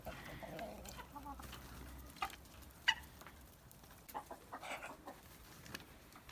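Amrox chickens in a summer enclosure in freezing weather give soft, faint clucks and a few sharper calls over quiet rustling, heard from close range.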